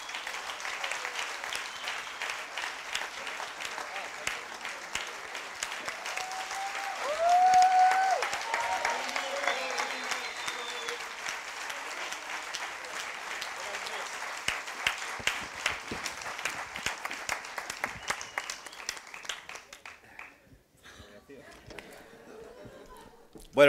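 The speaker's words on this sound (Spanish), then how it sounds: "Un aplauso y que salgan." Sustained audience applause at a tribute event honoring Miguel de la Cuadra Salcedo, dense clapping with scattered voices and calls mixed in, swelling briefly before fading out near the end.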